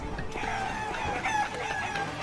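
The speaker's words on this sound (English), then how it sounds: "All I'm doing is just shooting chickens out of cannons." Chickens squawk and cluck in a short burst of game audio as they are shot out of cannons, a busy, fairly soft flurry of bird cries.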